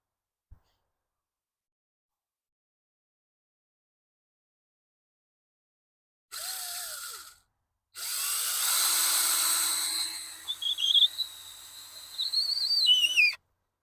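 A power drill drives a screw into wood while a roof and a wooden log box are built outdoors, with a short whirring burst followed by a longer run whose pitch wavers and climbs as it bites, then stops.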